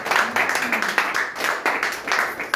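A church congregation claps together in acclamation, a sustained run of overlapping hand claps with sharp bursts that rise and fall, mixed with voices.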